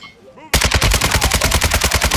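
Rapid automatic gunfire in a video game, a loud sustained burst of evenly spaced shots that starts abruptly after a brief quiet moment.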